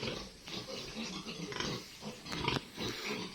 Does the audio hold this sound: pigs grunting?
yes